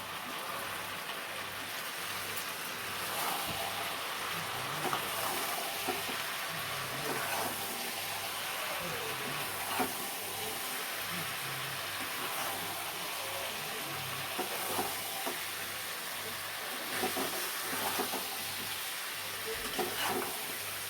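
Kashmiri chicken kanti cooking in a pan, a soft continuous sizzle with scattered faint pops and clinks, fairly quiet and steady, no talk.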